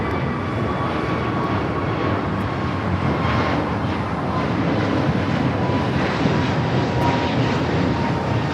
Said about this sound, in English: This is American Airlines 2002 taking off to Las Vegas on the A321neo